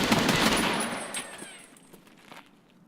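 Video game gunfire opens as a fast, loud burst of automatic shots, then thins out into a few scattered, fading shots and quieter noise.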